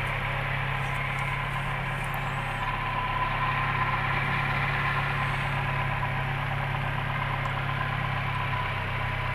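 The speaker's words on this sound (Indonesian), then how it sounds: "ini engine hidup" A Nissan car engine idles steadily and evenly for the whole stretch, a constant close-up hum with faint mechanical vibration and no break. The car is being worked on for its crankshaft and camshaft sensors and shows a check-engine warning.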